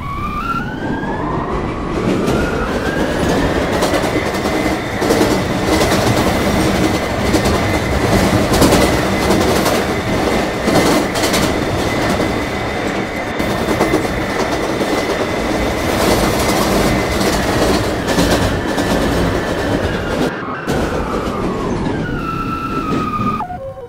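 New York subway train of R46/R68 cars on the A, C and E lines rumbles steadily and loudly along the track for over twenty seconds, with a sustained motor whine and clattering wheels, briefly dipping near the end.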